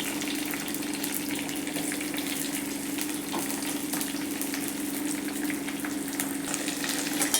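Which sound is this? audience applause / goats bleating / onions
onions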